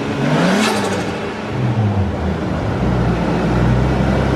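Nissan R34 with an RB25DE engine converted to turbo, revving up in a rising, falling sweep, then easing back to a rough, steady idle, loud and close with no talk over it.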